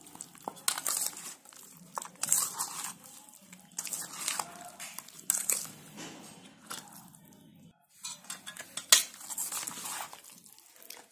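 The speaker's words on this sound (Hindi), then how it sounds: "अभी हम हमारा सब मिक्स कर लेंगे।" Chicken and chopped cabbage being mixed together for a marinade in a bowl, giving wet, crinkly stirring, clinking and squelching in irregular bursts, close up with no talk.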